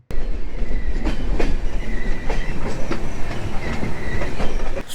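Steady rumble of the Howrah–Patna Janshatabdi Express running on rails, with regular wheel clatter over track joints and occasional faint metallic squeals, continuous and fairly loud.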